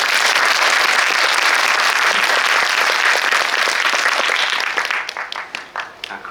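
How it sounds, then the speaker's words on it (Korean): An audience at a Korean film screening and Q&A claps loudly and steadily, a dense wall of applause that thins in the last second into a few separate, fading claps. "큰 박수로 한번."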